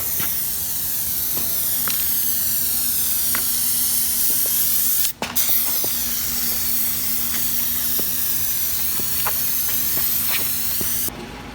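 Aerosol can of Performix Plasti Dip multi-purpose rubber coating sprays a steady, close hiss in one long burst while a truck grille is de-chromed, with a brief pause midway and occasional faint clicks.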